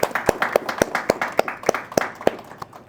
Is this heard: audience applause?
yes